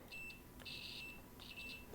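A Handtech continuity meter gives several short, fairly faint electronic beeps in uneven bursts, with no talking.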